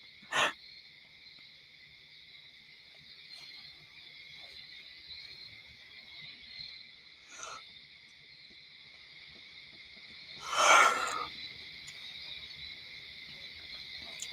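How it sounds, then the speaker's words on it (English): A single big yawn breathed right into a close microphone rises as a loud, breathy burst near the end, over a steady high background tone and faint hiss. "Sorry, big yawn right into the mic."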